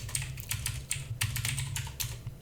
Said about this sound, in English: and I'll type node main